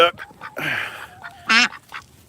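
Ducks quack in a farmyard after a storm, several short raspy calls in bursts, one loud nearby quack standing out, with a person talking over parts of it.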